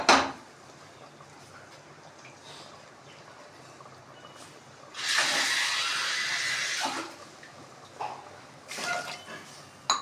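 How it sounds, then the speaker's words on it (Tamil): A steady rush of water pours for about two seconds into a cooking pot for sambar, with faint kitchen clatter and small knocks before and after. "தேவையான அளவுக்கு தண்ணி ஊற்றிக்கலாம்"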